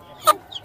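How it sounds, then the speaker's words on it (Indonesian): A single short cluck from an Ayam Cemani chicken, fairly close, followed by a fainter high chirp; brief and otherwise quiet. "Ayam hitam, teman-teman tuh."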